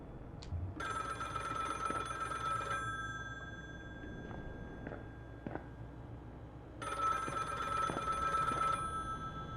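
A telephone rings in a horror video game, two long bursts of an electronic bell-like ring separated by a pause, loud and close over a low ambient drone.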